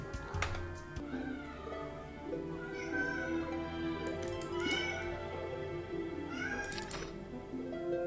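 A cat meows several times in drawn-out, wavering cries, spaced a couple of seconds apart, close by over a low background hum.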